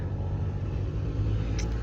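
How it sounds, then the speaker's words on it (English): A tractor spreading slurry on farmland gives a loud, steady low rumble that runs without a break and sits close to the listener, with no talk over it. "Sorry about the noise, it's slurry spreading."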